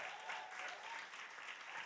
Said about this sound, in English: Y'all clap your hands for him.